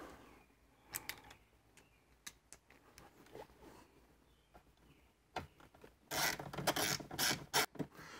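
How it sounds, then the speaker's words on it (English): A T20 Torx screwdriver drives screws to mount a car radio in a Mini Cooper dash, giving faint scattered ticks and ratcheting clicks, then a louder burst of scraping and clicking near the end. "so let's get the radio screwed in here. And again, these are all T20s."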